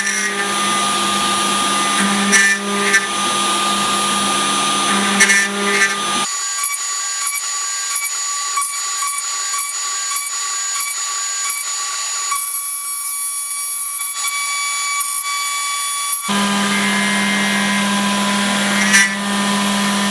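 A ShopBot Desktop CNC router spindle milling a guitar body gives a loud, continuous high whine with shifting tones as the cut changes, broken by stretches of a thinner, steadier pitch.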